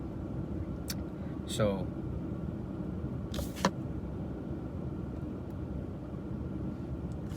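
A car drives along with a constant low road rumble inside the cabin, while a voice briefly speaks and a couple of short sharp clicks break through.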